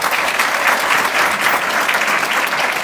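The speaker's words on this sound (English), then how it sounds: "Please give him a round of applause." A hall full of people at a transit State of Transit Address breaks into loud, sustained applause, an even wash of clapping from many hands with no voices over it.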